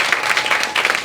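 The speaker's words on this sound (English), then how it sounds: "Round of applause for the nurses in this room" A room of people applauds the nurses among them, a dense, steady wash of many hands clapping close and loud, with no talk over it.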